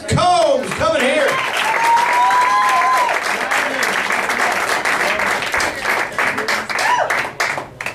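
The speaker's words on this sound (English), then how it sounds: "So please, big encouraging round of applause for Travis Combs coming here." Loud, close audience applause for a first-time stand-up comedian taking the stage at a comedy show, dense clapping sustained throughout, with a few cheers and whoops rising over it before it thins out at the end.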